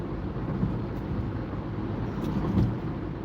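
A car driving on an expressway, a steady interior road and engine rumble with low tire hum at moderate level, continuous and even throughout.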